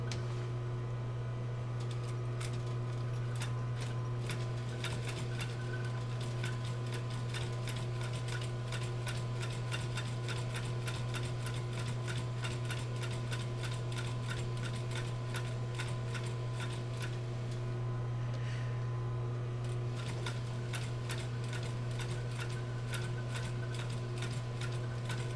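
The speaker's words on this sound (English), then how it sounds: "And I'm sewing about 1/8 of an inch seam on here." A sewing machine stitches a narrow seam with a backstitch on a leather cross-shoulder bag, a fast steady ticking of the needle over a constant motor hum, close and alone for the full length.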